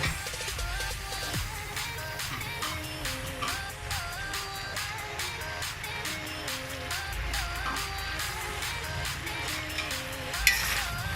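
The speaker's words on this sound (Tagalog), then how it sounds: "Haluin lang natin." Sitaw (string beans) and vegetables for pinakbet are stirred in a pan, with a steady soft sizzle and occasional scraping under continuous background music.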